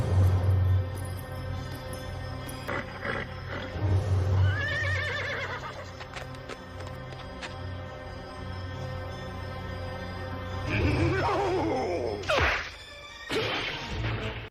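Cartoon horse neighs and whinnies loudly, two bursts of neighing with crash and whack effects and hoof clops in an animated western adventure, over a music bed with no talk.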